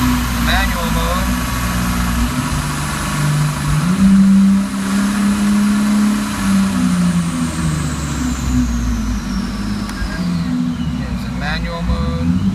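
A 2001 Lexus IS300 engine revs hard through a wide open throttle run in manual mode, a loud, sustained rising drone with shifting pitch heard from inside the car.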